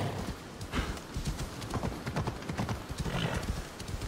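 Horse hooves pound in a fast, uneven galloping rhythm in the Assassin's Creed Odyssey video game, loud and close, with a brief whinny-like cry mixed into the steady run of hoofbeats.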